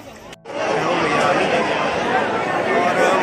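A dense crowd of pilgrims at Mansa Devi temple above Har Ki Pauri in Haridwar, a steady wash of chatter and shuffling that swells in after a brief dip and stays loud and close.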